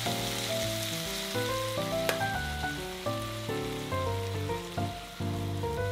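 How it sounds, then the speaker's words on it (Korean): Dried zucchini stir-fries in a pan over medium heat, a soft, continuous sizzle sitting beneath gentle melodic background music. "센 불에 볶으면 타니까 중불로 1분 정도만 볶아주세요"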